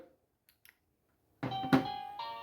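After near silence with a couple of faint clicks, a Cata wireless doorbell chime, triggered by remote, starts up and rings on with a bright tonal melody, close and moderately loud.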